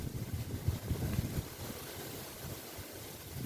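Cool outdoor wind blows steadily across the microphone during grass cutting in a rural cattle-raising setting, a continuous low rumbling gust with no talking.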